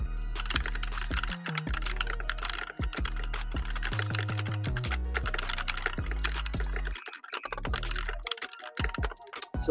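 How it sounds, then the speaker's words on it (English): Someone types steadily on a custom-built mechanical keyboard to test its switches, producing rapid, close clacking keystrokes in irregular bursts with no talking. "I want to test that all the switches and keys are working"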